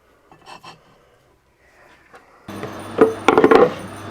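A hacksaw cuts through bolt heads held in a lathe, faint scraping at first, then louder rasping strokes in a quick uneven burst over a steady machine hum.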